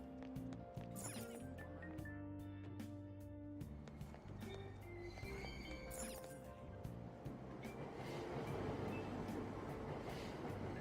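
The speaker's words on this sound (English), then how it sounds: "Platform number 2, service to Asakusa is departing soon." A train pulls away from a station in the video game Persona 5, with a low rumbling engine tone, clattering and metallic squeals, and a brief chime, growing into a noisy roar toward the end. No talking.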